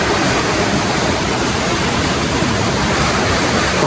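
A stream flows right beside lodging in Sapan village, Thailand, making a loud, steady, close rush of water that never lets up, with no voices over it.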